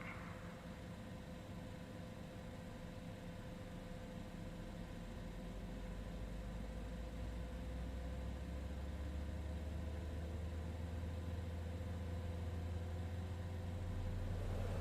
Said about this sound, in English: So let's go ahead, start engine number 1.